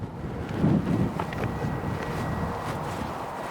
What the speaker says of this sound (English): The wind's not helping this part here.